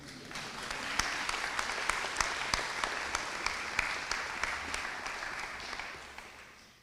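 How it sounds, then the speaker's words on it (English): An audience at a tribute event for Mary Burghardt Du Bois claps steadily for several seconds. The dense, even applause sounds moderately distant, with a few sharper individual claps, and fades slightly at the end. "Y'all clap for that."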